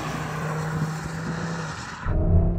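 Audi RS3 engine pulling hard under acceleration, a steady droning note that drops into a deeper, louder burst of rumble near the end, with no talking.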